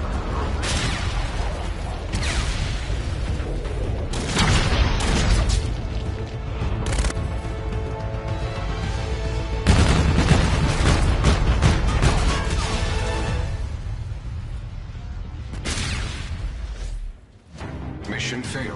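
Heavy rocket strike explosions rumble through a Call of Duty: Infinite Warfare battle, with repeated loud booms and crashing bursts layered over dense game action and background voice chatter.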